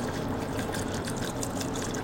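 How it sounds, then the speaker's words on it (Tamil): One litre of water pours into a pot of country chicken biryani, a continuous splashing gush that stays loud and even throughout. "இப்போ நம்ம 1 லிட்டரு தண்ணியை சேர்த்துக்கலாம்."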